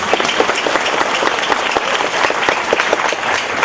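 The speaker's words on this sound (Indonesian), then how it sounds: "Tepuk tangan di situ." Church congregation applauding during a Karo Christmas sermon service, a steady, dense clapping from a large crowd that holds evenly for the whole stretch, fairly loud and close.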